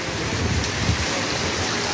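Heavy rain pours down outdoors in a steady, dense roar of drops striking surfaces, loud and close, with no voices over it.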